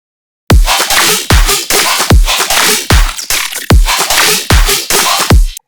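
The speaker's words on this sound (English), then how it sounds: "That's my kick, the main clap, and the additional one. Here I have the offbeat hi-hat" Riddim drum pattern of punchy kick, main and additional clap and offbeat hi-hat, layered over heavy, growling dubstep bass, loud and tightly rhythmic with kicks landing regularly.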